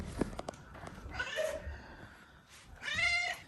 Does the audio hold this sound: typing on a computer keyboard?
no